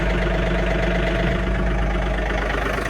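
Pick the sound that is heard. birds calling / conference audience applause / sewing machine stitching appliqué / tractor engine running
tractor engine running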